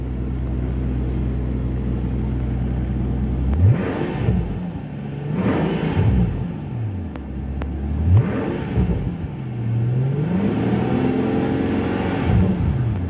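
A 2012 Mercedes-Benz S65 AMG with a V12 biturbo engine idling with a deep hum, then revved four times in sharp rising and falling blips, loud and close with no talking.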